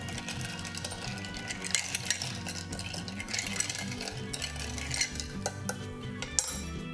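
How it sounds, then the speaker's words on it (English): A Negroni of sweet red vermouth is gently stirred in a glass, bringing light metallic clinks and tinkling of spoon and ice, close and continuous, with no voices. "Gentle stir."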